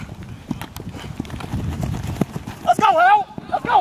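Horses clip-clopping in a video game, a quick run of hoof clops under an excited voice, followed by a horse whinnying near the end.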